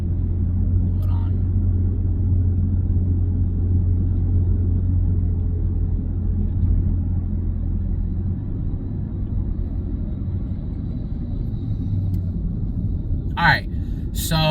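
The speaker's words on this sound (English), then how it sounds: "this truck making me nervous, low-key" A truck rumbling past on the road, heard from inside a moving vehicle as a steady low, loud rumble that lasts most of the span, with a brief voice near the end.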